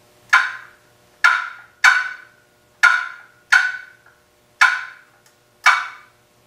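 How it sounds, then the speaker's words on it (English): A wooden paddle call for turkey hunting produces sharp turkey clucks, seven crisp, evenly spaced pops with short ringing tails, close and clear against a quiet background. "that's the way I do the cluck"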